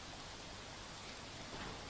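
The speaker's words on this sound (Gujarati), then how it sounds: "છોટાઉદેપુર જિલ્લામાં વહેલી સવારથી જ કમોસમી વરસાદ વરસી રહ્યો છે" Unseasonal rain falls in Chhota Udepur district, a steady, even wash of broadband hiss that continues unbroken and grows slightly heavier near the end, with no voices.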